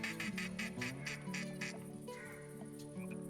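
Ducks quack in a quick series of loud, close calls in the hunting video game theHunter Classic, then trail off to quieter sounds, with no talk.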